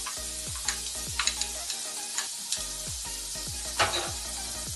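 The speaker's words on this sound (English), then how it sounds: "We start off by adding the onions. Saute it and add the garlic." Onions and garlic sautéing in a hot pan for vendaikkai pal curry, a steady sizzle with repeated stirring scrapes and soft clinks of a spoon against the pan, close and continuous with no talking.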